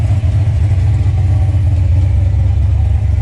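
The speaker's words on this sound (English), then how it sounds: "That tick is the passenger, our driver's side exhaust header leak we got to fix." An engine idles steadily with a low, even rumble, a faint rapid ticking from a driver's side exhaust header leak running through it close by.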